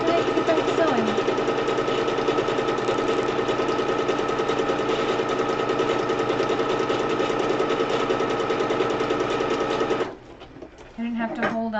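Sewing machine stitching a cosplay costume runs in one loud, steady, rapid mechanical whir for about ten seconds, then stops as a voice starts talking.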